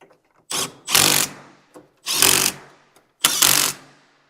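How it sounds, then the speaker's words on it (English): A handheld power tool tightens fasteners on the front strut assembly of an Aston Martin DB9, running in three loud whirring bursts, each lasting about half a second, with short clicks and silent pauses between them. "Now I'm going to switch to some power tools."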